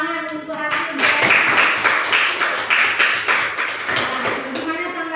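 A classroom group claps for another group's results, a few seconds of steady close applause with rhythmic hand claps, a voice speaking briefly over it.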